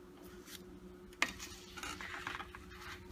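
A spoon stirring jaggery in a pan for bobbatlu filling, with soft scraping and one sharp clink of metal against the pan, close and quiet, no talking.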